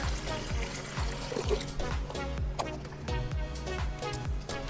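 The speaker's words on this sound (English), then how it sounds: "And I'll just top her up with some water." Water pours steadily into a soup pot on a stove, a continuous rushing splash with a few low knocks and clunks underneath.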